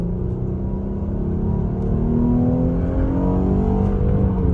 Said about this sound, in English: Get some good acceleration here.